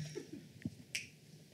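A single sharp finger snap at close range, a crisp isolated click in a quiet studio with faint room tone around it.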